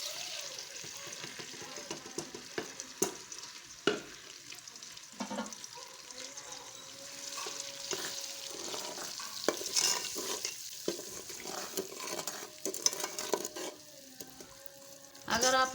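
Spices stirred into hot oil for chana biryani, a steady soft sizzle with clinks and scrapes of a spoon against the pot throughout, close and moderately quiet.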